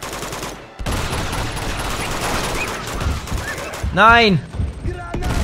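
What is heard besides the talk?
gunfire in the video game Uncharted 2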